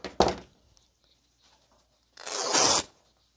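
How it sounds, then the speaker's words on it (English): Quilt cotton fabric is ripped by hand along the selvage edge: a brief snip-like tear at the start, a quiet pause, then one longer, loud, close tearing rip. "So I'm actually going to come right about here and trim it, and then we're going to rip it."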